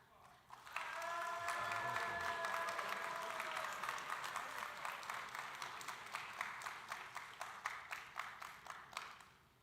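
An audience at a Scottish Rite Masonic biennial session applauds steadily for nearly ten seconds, a dense wash of clapping from a large hall crowd with a brief ringing tone near the start.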